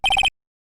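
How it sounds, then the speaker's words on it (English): A phone rings after a redial in the Phoenix Wright: Ace Attorney video game, four rapid electronic trill pulses in a quick burst, loud and close, then silence. "You pressed redial on that there phone, didn't you?"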